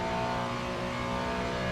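A Ferrari 296 GT3 race car engine in the Le Mans Ultimate racing game, a steady sustained drone with strong harmonic tones, held at a constant loud level with no talk over it.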